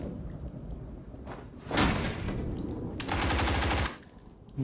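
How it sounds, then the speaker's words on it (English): Gunfire in the video game Blackhawk Rescue Mission 5 comes as loud sharp bursts, including a sustained rapid volley, close and alone in an indoor room-clearing scene. "You just shot a guy"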